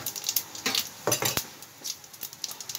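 Cumin seeds and asafoetida frying in a pan, a soft sizzle under scattered clinks and scrapes of a utensil against the pan, close and fairly quiet, with no voices.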